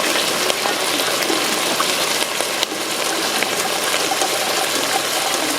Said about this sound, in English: I'm going to put in 2 cups of water.